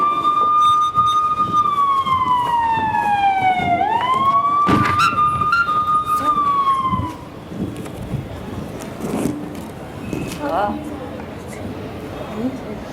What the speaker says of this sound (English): I can hear the cops.